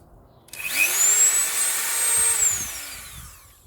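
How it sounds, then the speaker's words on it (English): A Dremel 3000 rotary tool whirs up to a high, whining spin, holds its pitch briefly while shifting speed, then winds down; close and loud, no voices. "we've got the Dremel 3000, sorry. Up to 10 speed."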